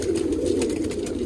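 Domestic pigeons kept by a hobbyist who breeds and flies them, cooing in a soft, continuous low murmur that fills the whole short stretch, close by with no talk.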